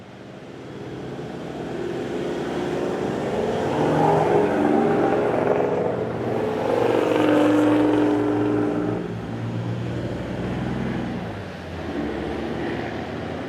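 A four-wheel-drive vehicle drives along a beach in the Kimberley, Australia, its engine a steady droning rumble that swells and eases over the run, with wind and tyre noise, heard from inside.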